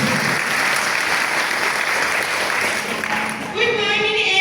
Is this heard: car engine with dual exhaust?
no